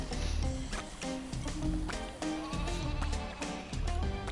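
Sheep bleating in the video game LittleBigPlanet 3, heard over loud game music with a steady beat, with repeated short bleats mixed into the track.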